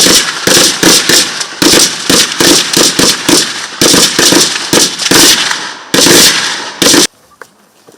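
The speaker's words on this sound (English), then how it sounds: "They take push-up positions, take up push-ups, pick up their weapons, they shoot under pressure." Rapid bursts of gunfire from soldiers' weapons during a pressure shooting drill after push-ups, loud clustered shots in quick irregular volleys, then stopping abruptly near the end.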